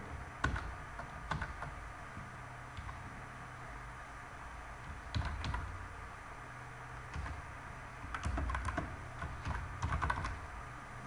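Typing Python code on a computer keyboard: bursts of quick key clicks with pauses between them, close and moderately quiet over a steady low background hiss, with no talk.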